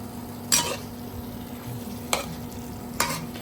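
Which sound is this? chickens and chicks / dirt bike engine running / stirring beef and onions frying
stirring beef and onions frying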